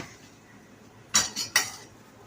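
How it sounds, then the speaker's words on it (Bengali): A spoon scrapes and knocks in a pan as cinnamon, mace, green cardamom and cloves are stirred in ghee, three quick bright metallic clinks close together after a quiet moment. "প্রথমে দারচিনি, তারপরে জাবিত্রী, ছোট এলাচ আর লবঙ্গ দিয়ে একটু নেড়ে নেব"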